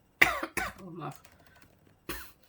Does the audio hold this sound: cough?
yes